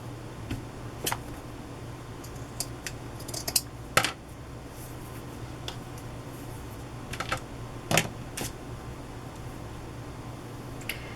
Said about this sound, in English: I'm going to cut it so it's easier to store.